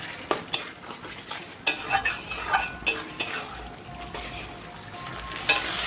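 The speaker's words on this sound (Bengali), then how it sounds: "দিয়ে মশলাটা ভালোভাবে কষিয়ে নেব যতক্ষণ না মশলা থেকে তেল ছেড়ে যাচ্ছে" Turmeric-spiced paste being stirred and fried in a pan for a Bengali jackfruit and prawn curry, with a steady close sizzle and repeated spoon scrapes and clinks against the pan, no talking.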